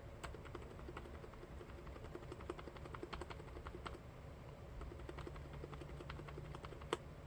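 Softer, muted typing on a lubricated membrane keyboard with steady scattered keystrokes, close up, quieter and less clacky than unlubricated keys, no talking.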